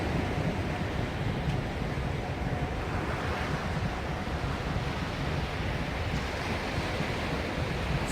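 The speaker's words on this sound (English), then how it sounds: "And this is the beach, Tarragona." Surf at the beach in Tarragona washes in a continuous broadband roar, close and fairly loud, with wind buffeting the microphone throughout and no voices.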